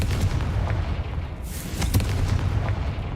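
Confringo fire spell cast in Hogwarts Legacy, a dense burst of crackling, booming blasts over a steady low rumble, loud and close, with a sharp flare midway through.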